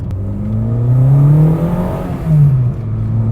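Renault Clio Williams engine accelerating hard in first gear, a loud, close, rising engine note that climbs steadily, dips briefly, then surges again.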